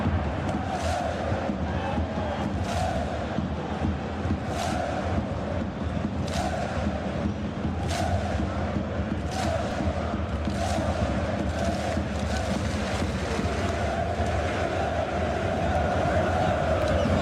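Stadium crowd in a PES 2021 football video game at a capacity Champions League match between Bayern and Manchester United, a constant roaring murmur with rhythmic chanting swells, under faint commentary talk.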